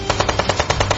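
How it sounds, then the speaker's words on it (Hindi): Rapid automatic gunfire in a steady stream of about ten bursts per second, loud and dense, used as a sound effect in a narrated story about the Mumbai 26/11 terror attack. "पेड़ों के पीछे छिपे अब्दुल ने उन पर फायरिंग शुरू कर दी"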